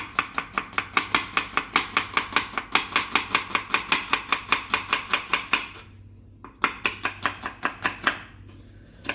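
A knife chops onions on a board in a fast, even run of crisp thuds, close and loud, then pauses briefly before a few more strokes resume near the end.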